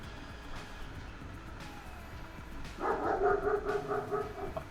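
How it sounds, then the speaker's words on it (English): Dogs bark in a quick series of sharp barks starting partway through, moderately close, after a stretch of quiet background hum. "And there's my dogs."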